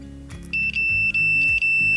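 A multimeter sounds a continuity beep on a meteorite fragment: a steady high electronic tone repeats about three times in quick succession, each cut by a short gap, loud and close, with a low hum underneath.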